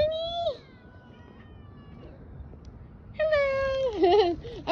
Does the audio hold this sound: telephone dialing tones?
no